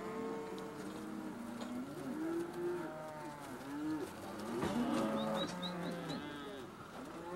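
Cattle on a large Hawaiian ranch moo repeatedly, with several overlapping low calls from a herd at moderate distance, while birds coo and chirp faintly in the background.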